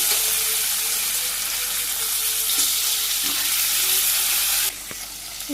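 A fish head fries in hot oil with cumin in a village kitchen, producing a steady, close, loud sizzle and spatter that drops slightly near the end, with occasional stirring clinks.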